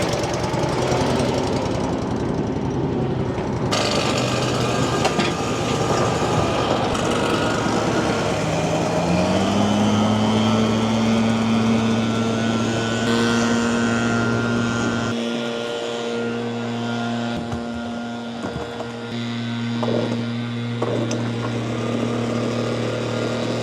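Gas leaf blower blasting debris off paved areas during a spring landscaping cleanup, a loud, steady engine whine nearby with shifting pitch as the throttle changes, and other motors droning in the background.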